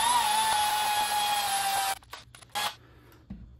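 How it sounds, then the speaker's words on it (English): A high-pitched power drill with a 1/8 inch bit whines steadily as it bores a hole, then stops and gives a few short bursts before falling quiet. "we're gonna take our 1/8 inch drill bit and we're just gonna drill a hole through that"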